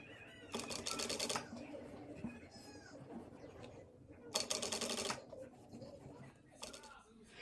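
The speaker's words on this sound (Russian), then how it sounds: "Закрепкой в начале и в конце я прокладываю строчку" A sewing machine stitches a seam on a linen skirt in three loud bursts of rapid mechanical whirring, with someone talking quietly in the pauses between them.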